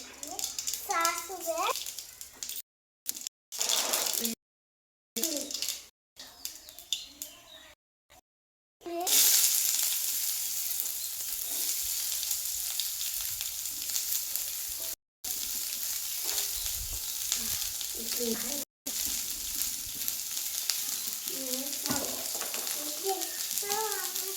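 Mustard seeds frying in hot oil during evening snack cooking at home, a moderate crackling hiss that swells and settles, with a child and an adult talking over and between the sizzling and brief breaks in the sound.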